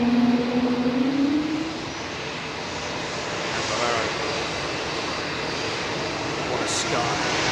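Airliner with Pratt & Whitney engines taking off at London Heathrow and banking left, a steady distant engine roar that holds level for several seconds, with a rising whine early on.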